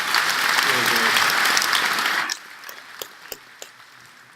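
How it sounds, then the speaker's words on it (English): An audience at a tech conference applauds vendors in a dense, loud burst of clapping that lasts about two seconds, then thins to a few scattered, isolated claps. "please join me in giving them a round of applause"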